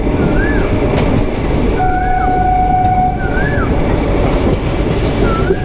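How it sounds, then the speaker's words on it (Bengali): A slow summer special passenger train rumbles along Indian tracks between Malda and Kharagpur, a loud, steady roar with brief high squealing tones rising and falling over it. "আমাদের ট্রেন মোটামুটি আজকে ধ্যাকর করতে করতে যাচ্ছে"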